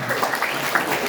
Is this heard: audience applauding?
yes